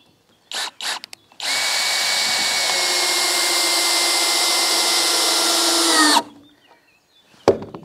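A power drill drives ordinary screws into wood while a large picnic table-and-bench set is built: a few short trigger bursts, then one long, steady, close whine of about five seconds that cuts off abruptly, followed by a faint knock.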